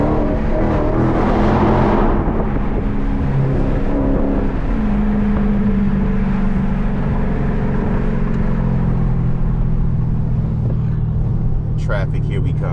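Dodge Charger 392 V8 engine accelerating with the windows down, heard from inside the car: a steady loud rumble rising in pitch as it pulls away, with voices talking over it.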